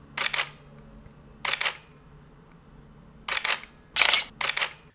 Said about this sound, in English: Canon has this very clinical, digital and somewhat unpleasant sound compared to the nice and clicky shutter of the Nikon.